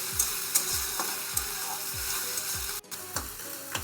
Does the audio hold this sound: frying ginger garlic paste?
yes